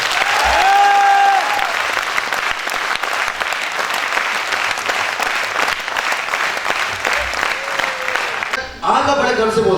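A large audience claps in sustained, dense applause that fills nearly the whole stretch at an even loudness, with a brief lull and some shouting near the end.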